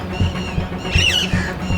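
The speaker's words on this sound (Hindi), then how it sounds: "पंछियों की चहचहाहट बैकग्राउंड में" Birds chirp and squawk by the Chambal river, a bright warbling call rising in the middle over steady low construction rumble and periodic thumps.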